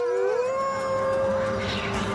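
A wolf howling, a long sustained tonal howl that rises at the start then holds steady, with a second fainter howl layered over it, fairly close and clear against low background rumble.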